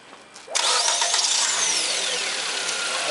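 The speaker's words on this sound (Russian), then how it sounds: "Заводится, как говорится, с полтыка." A Nissan Sunny car engine cranks briefly and catches at once, settling into a steady, fairly loud idle heard up close with no talk.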